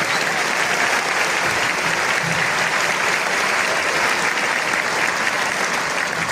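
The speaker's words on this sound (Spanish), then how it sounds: "Un aplauso para las mujeres emprendedoras" Sustained, dense applause from a large audience at an entrepreneurship talk, honoring women entrepreneurs, loud and even throughout with a faint crowd murmur and no distinct voice.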